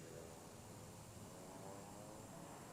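An airplane taking off near the border where Finland, Sweden and Norway meet, heard as a steady, loud, broadband engine roar that holds evenly throughout.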